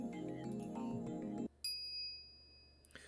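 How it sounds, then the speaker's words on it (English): The Phone Wave gadget in the Steins;Gate video game gives off a bright bell-like ding that rings out and fades, after a busy stretch of tonal game sound, with a faint click near the end. "The phone wave, named subject to change, rings."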